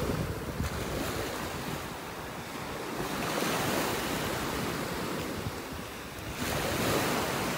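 Ocean waves breaking and washing up on a beach in North Naples, Florida, a steady broad surf roar with wind across the microphone, continuous and fairly close, with no voices.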